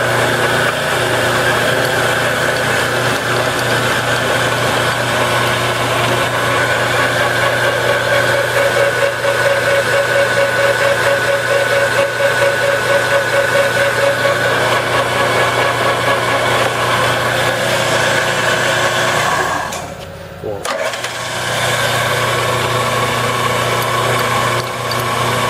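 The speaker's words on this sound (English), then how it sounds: "Here we have an Enco 9" by 20" bench lathe. It's used. It is in operating condition. Turn it on." A used Enco 9 by 20 inch bench lathe runs steadily with a continuous motor hum and mechanical whine, loud and close, with a brief dip near the end before it carries on, and no voices.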